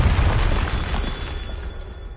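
A Confringo spell blast in the Hogwarts Legacy video game, heard as a loud, close, rumbling explosion that decays over about two seconds, with no voices.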